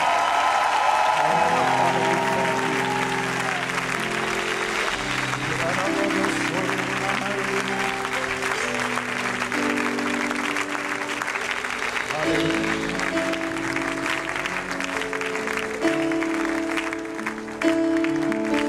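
A church congregation applauding and acclaiming the Lord, sustained steady clapping from a large crowd under organ or keyboard chords, with a preacher's voice over it.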